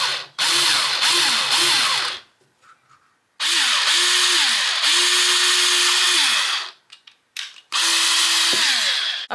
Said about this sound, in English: I'm just going to drill a little hole in there.